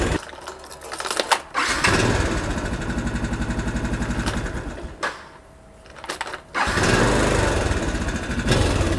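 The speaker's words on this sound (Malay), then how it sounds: "Okey, motor boleh hidup." A Yamaha LC135 motorcycle engine running on a DIY lithium battery idles loudly and close by with a rapid, buzzy rhythm, briefly dipping and then recovering, with no talking.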